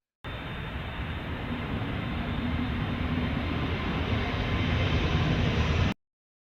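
Emirates Airbus A380 airliner passing up close, a loud broad engine roar that builds steadily for several seconds and then cuts off abruptly.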